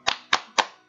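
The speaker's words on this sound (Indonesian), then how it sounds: "kita tepuk semangat dulu yuk" Three crisp, evenly spaced hand claps come close and loud in a quick rhythmic burst, a classroom clapping cheer with no talking over them.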